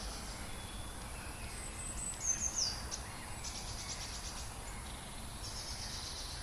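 Birds sing and chirp outdoors in early spring amid a steady high insect-like buzz, thin scattered calls over a faint, even ambient hiss.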